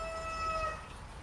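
A single rooster crows nearby for under a second, the call rising and then trailing off over a low background hum with no talking.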